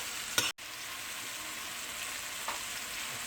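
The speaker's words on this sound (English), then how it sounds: "all the butter will cover with the mushroom, we'll saute it" Mushrooms sauté in melted butter with a constant, fairly quiet hiss of frying. A brief scrape of stirring comes early, then a short dropout, and a fainter stir follows later.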